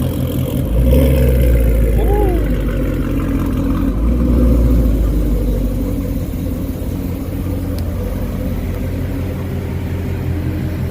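A car freshly tuned for E85 fuel runs with a loud, deep engine rumble that holds steady throughout, close to the microphone, with someone talking over it.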